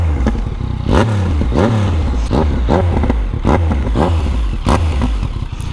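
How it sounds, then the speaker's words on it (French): A Yamaha MT-09 motorcycle engine revs repeatedly in sharp, loud bursts, each rising and falling in pitch over a rough idle, close by. "on va aller démarrer la moto ensemble"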